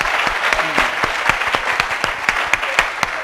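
A church congregation applauding to acclaim the Lord, dense rhythmic clapping from many hands close by, steady and loud, with a few faint voices mixed in.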